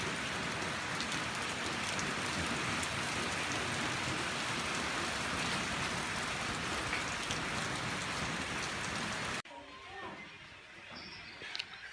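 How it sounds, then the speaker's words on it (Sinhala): Heavy rain in Batticaloa pours down in a dense, steady roar for several seconds, then abruptly drops to a much quieter patter near the end. "අද නම් වහිනවා ගයිස් හොඳටමයි. එලි බහින්නත් බැරි තරම් වහිනවා."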